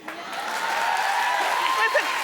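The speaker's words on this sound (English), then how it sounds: "Keep the claps going." Studio audience at a daytime television talk show keeps up steady, sustained clapping at moderate loudness, broad and continuous for the whole stretch, with a faint voice rising briefly near the end.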